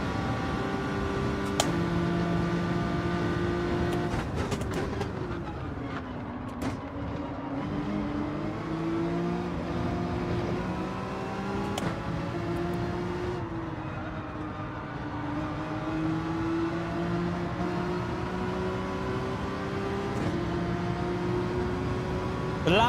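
A Lamborghini race car engine in Gran Turismo 7 drones continuously and steadily during a daily online race, its pitch dipping and climbing again through gear changes and cornering. No one speaks.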